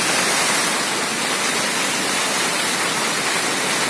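A waterfall at Amarkantak pours in a dense, steady broadband roar, loud and close, with no break or change throughout.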